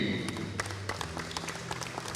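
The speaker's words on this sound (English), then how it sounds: "how about an out round of applause for your 2025 North All-Stars" Applause from a crowd at a high school girls' all-star basketball game, a steady wash of scattered claps at moderate volume lasting a couple of seconds.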